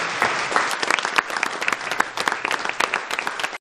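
An audience at a cinema museum inauguration in Bueil applauds steadily, a dense wash of many hands clapping at moderate distance with no voices standing out.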